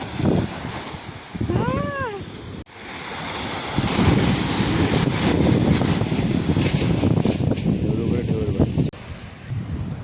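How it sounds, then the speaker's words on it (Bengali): Wind-blown roar of surf with waves surging and washing in, loud and close, while a short wavering tonal call sounds near the start. "এটা আসছে, এটা ঢেউ আসছে দেখো।"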